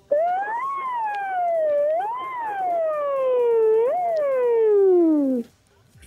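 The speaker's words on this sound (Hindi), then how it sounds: "ये कौन से हॉस्पिटल के सायरन है?" A loud wailing ambulance siren rises and falls in long sweeping tones, repeated several times close by, then cuts off abruptly.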